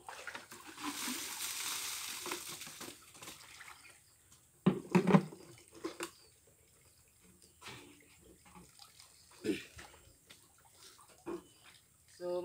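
Water gushes and splashes loudly at a spring used for drinking water, then quieter trickling and splashing follow with scattered knocks, while people talk nearby.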